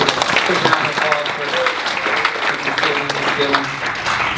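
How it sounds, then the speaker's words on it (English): A crowd at a rehearsal dinner claps in a brief round of applause, dense and steady, with voices mixed in. "just a quick round of applause"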